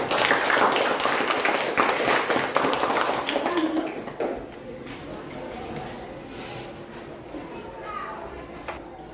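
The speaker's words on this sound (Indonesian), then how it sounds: "Kita kasih aplaus dulu ya" Classroom applause for a group presentation, a loud burst of many hands clapping for about four seconds before fading into quieter room noise and scattered voices.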